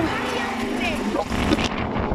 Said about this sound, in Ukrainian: Ах, який вітер.